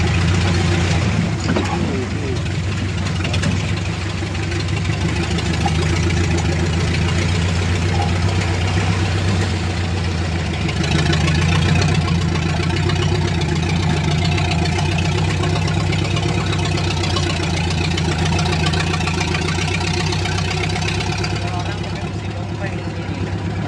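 An engine idles and rumbles steadily and loudly throughout, a vehicle out on an off-road track through an oil palm plantation at harvest time, with voices heard talking over it.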